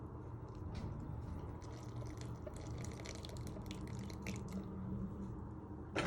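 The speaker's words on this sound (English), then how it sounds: "Now you want to slowly add in your water and yeast to your bread flour and salt." Water and yeast are poured slowly into a bowl of bread flour and salt, a steady soft trickle and drip under dull kitchen background noise, with no talking.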